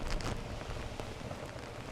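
Steady rain falls during the final stage of the Welsh Super Series 2019 on the Gower, a continuous broadband hiss of drops on surfaces that holds an even level throughout with no voices.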